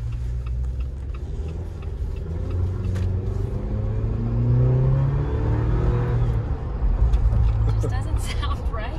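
A 2021 Ford F150 Limited PowerBoost hybrid engine revs with a steady low rumble that swells and falls, some ticking on top and voices talking over it, reportedly sounding a little off.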